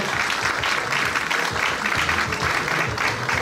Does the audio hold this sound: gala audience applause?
yes